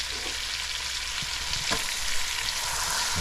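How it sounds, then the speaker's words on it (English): Onions sizzle steadily in a hot pot with bay leaves and cinnamon, a continuous close frying hiss with a few soft stirring clunks. "Add our onions in there,"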